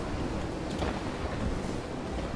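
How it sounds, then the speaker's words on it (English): Steady rain with a low thunder rumble in the From the Depths naval combat game, a continuous broadband wash at even loudness with no talk over it. "it seems the rain is stopping. No, wait, it isn't."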